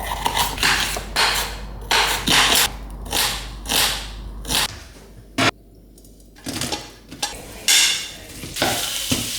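Sliced pepper and onion for fajitas sizzle in a pan, broken by repeated scraping stirs in uneven bursts with a brief quiet gap, up close and without voices.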